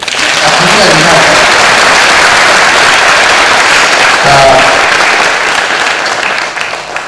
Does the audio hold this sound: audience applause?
yes